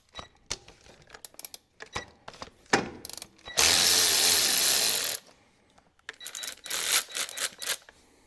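Ratchet wrench clicking as it turns a 9/16 bolt on the alternator of a 1070 tractor, close and loud, with rapid pawl ticks in bursts and a longer continuous ratcheting run in the middle.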